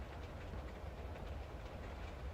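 A train passes in a Flash video game, a steady low rumble with faint rhythmic clatter that runs evenly throughout at modest volume, with no voices.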